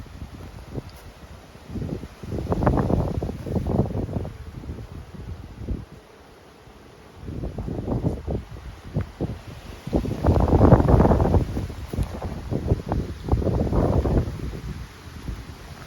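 Gusty morning wind over a sunflower field in Mykolaiv region, Ukraine, buffets the microphone in waves, rising and falling in roaring bursts with brief lulls between them.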